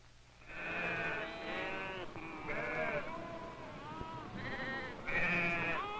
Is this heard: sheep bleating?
yes